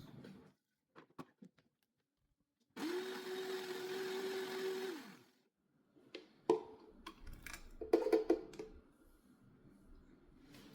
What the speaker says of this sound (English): So let's blend the onions.